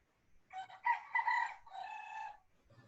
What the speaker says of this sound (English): yeah, that's roosters from the compound.